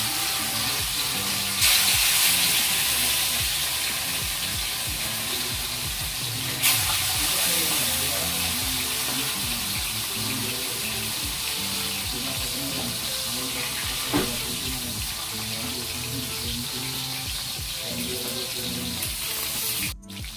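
Tilapia sizzling as it fries in a pan, a steady loud hiss of hot oil with crackling pops running continuously, sparse voices in the background.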